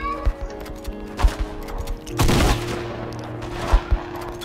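Rapid bursts of shotgun and other gunfire crack in a video game match, several sharp blasts scattered across the moment, some close and loud, with a brief dense fusillade in the middle.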